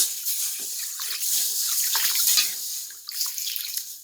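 Water poured from a vessel onto green gram in a cooking pot for boiling, a steady close splashing pour that runs for about three seconds and then breaks into a brief, uneven trickle.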